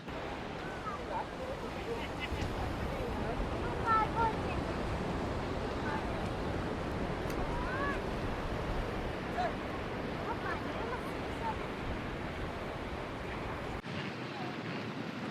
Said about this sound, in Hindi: कैसी लहरें, कितनी कितनी लहरें आ रही हैं